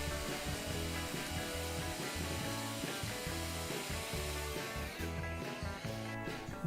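A router carves the wooden seat of a Maloof-style rocking chair with a loud, continuous whine that pulses as it cuts, then eases slightly near the end.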